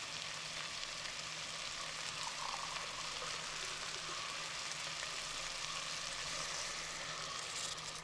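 Oats sauté in a clay pot, giving a steady, faint sizzle and crackle with soft stirring and no voices.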